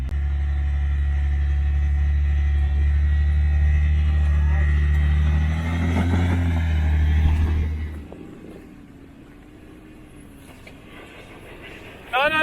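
A 4WD engine rumbles at low revs while rock crawling on a rough creek track, a loud steady drone that strains briefly and then drops to a quieter idle, with people talking.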